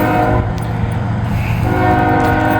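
A Norfolk Southern freight train rumbles past at Arlington Heights, sounding a loud, sustained multi-tone horn that holds steadily for the whole stretch, close and dominant over the steady rail noise.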